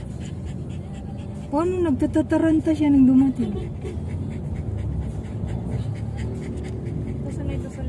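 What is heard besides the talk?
dog panting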